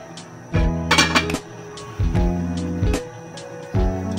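Metal clanks of a lid being set onto a cooking pot of simmering pork trotters, three separate close, bright rattling knocks each ringing briefly before fading, with no talk.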